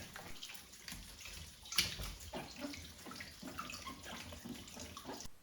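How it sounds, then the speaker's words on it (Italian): Running tap water splashes steadily over bell peppers being washed under the faucet, a continuous close gush with small bursts of splashing and no talk. "Come prima cosa li lavo bene per togliere terra e impurità"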